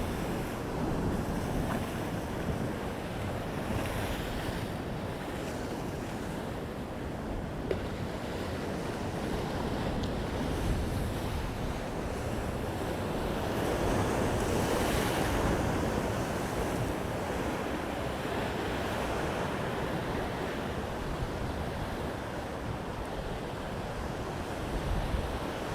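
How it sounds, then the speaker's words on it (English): Ocean waves crash against rocks along the coast at Costa de la Calma, a steady, loud roar of surf that swells and recedes, mixed with gusty wind buffeting the microphone, with no voices. "looking at the waves, I could sit there and do that all day"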